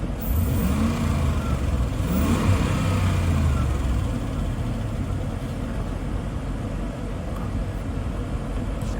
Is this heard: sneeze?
no